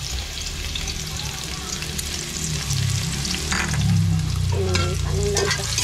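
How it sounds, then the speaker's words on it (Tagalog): Corn is sautéed in a hot pan, giving a steady close sizzle with scraping stirs of a utensil, while a voice talks briefly near the end. "Ayun, nagigisa tayo ng mais."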